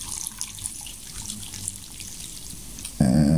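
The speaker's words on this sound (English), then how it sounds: "I'm just gonna pour hot water." Hot water is poured for instant noodles, a steady watery stream heard at close range that ends abruptly in a louder, lower burst of sound.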